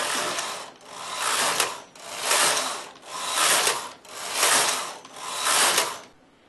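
A knitting machine carriage sweeps across the bed knitting ribbing rows, making six rhythmic passes of loud, close, raspy sliding, each lasting about a second with no speech.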